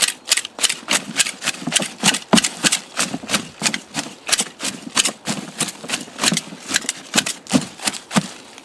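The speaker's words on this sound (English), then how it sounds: "This is some broccoli leaves. And these can all be chopped up a bit finer." Broccoli leaves being chopped for a compost bin made from plastic storage containers, a steady rhythm of sharp knife strikes repeating about three times per second, close and fairly loud, with no voice.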